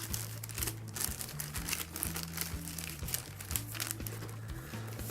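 Close, crisp crinkling of a plastic bag being handled, in irregular bursts over a low steady hum.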